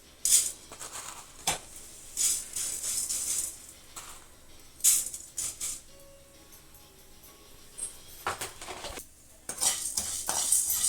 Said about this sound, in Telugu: ధనియాలు ఇలా దోరగా వేయించుకోవాలి మాడకుండా చూసుకోండి